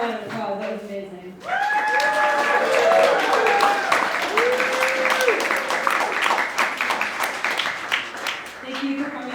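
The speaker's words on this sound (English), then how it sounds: "One more round of applause." A crowd applauds after a May Day speech in Bellingham, with sustained dense clapping and some cheering that swells suddenly and holds steady, loud and near, while voices call out over it.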